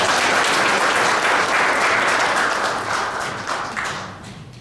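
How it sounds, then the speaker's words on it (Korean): A hall full of people applauds at a memorial ceremony and alumni foundation vision proclamation, loud dense clapping that stays strong before gradually thinning out toward the end. "박성민 대표님께 다시 한번 큰 박수 부탁드립니다"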